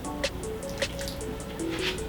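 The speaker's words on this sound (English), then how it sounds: "I'm also just going to add in a little bit of water" A small amount of water trickles and drips into cupcake batter in a home kitchen, with soft splashes and faint background tones.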